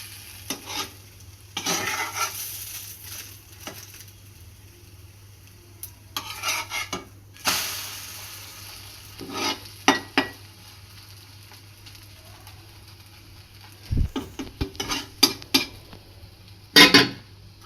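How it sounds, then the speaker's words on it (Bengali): Egg frying in a pan with ghee nearby, soft sizzle broken by scraping and spreading strokes of a spatula, a few sharp metallic clinks of utensil against pan, close and fairly quiet with no talk. "এখানে ডিম দিলাম। ডিমটা ছড়ায় নিব এভাবে।"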